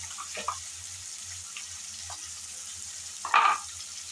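Garlic, tomato and a pinch of turmeric fry in a pan for cucumber pachadi, giving a soft continuous sizzle with a few light stirring scrapes and clinks, the clearest scrape near the end.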